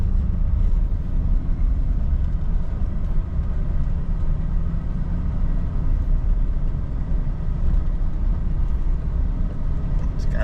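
A Chevrolet 2500 HD truck with an oil pressure fault drives down the road, a steady low rumble of engine and road noise from inside the cab, with people talking over it.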